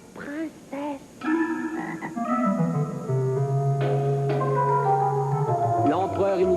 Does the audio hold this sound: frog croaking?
yes